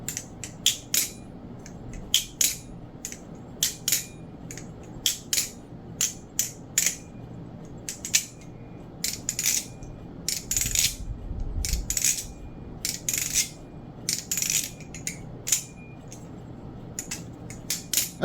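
A dry, unoiled Akuma Matata aluminum balisong being flipped, giving a steady run of sharp metallic clicks and clacks in quick irregular bursts, close and crisp against a quiet background.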